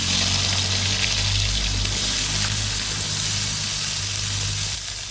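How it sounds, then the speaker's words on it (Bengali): Eggplant pieces frying in hot oil in a pan give a steady, close sizzle that holds evenly throughout, crackling faintly without any voices. "আর এদিকে আমি পেটাটা করার জন্য বেগুনটা ভেজে নেব"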